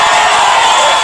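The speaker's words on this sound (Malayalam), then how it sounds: "ക്ലാപ്പ്" Crowd applause and cheering mixed with whoops, played as a short, loud, dense burst of clapping that stays steady throughout, with no talking over it.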